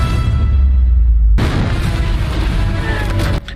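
An explosion in the Black Widow movie, a deep rumbling boom that swells, then breaks into a loud, crackling burst of debris and noise before cutting off sharply.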